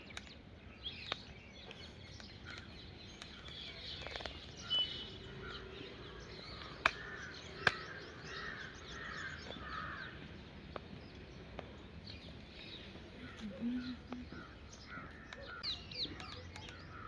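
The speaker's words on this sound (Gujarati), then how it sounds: "પક્ષી." Several crows caw intermittently outdoors in a village in Kakanpur, with sharp calls scattered over a faint, steady ambient background and other small birds occasionally chirping; no one speaks.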